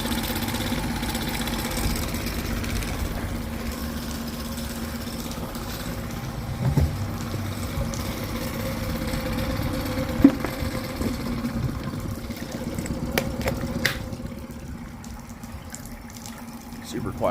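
A 2013 Tohatsu 8hp outboard idles in reverse in the water, a low steady hum with splashing and gurgling around it and a few sharp clanks near the end.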